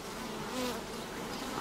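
Honey bees buzz around a hive at an apiary on a hot day, a faint, steady humming swarm with one bee droning briefly closer, no voices.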